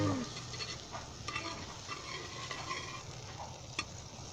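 Butter melting in a hot pan for Pakistani-style French toast gives a steady close sizzle and light frying crackle throughout, with faint stirring scrapes and no talking.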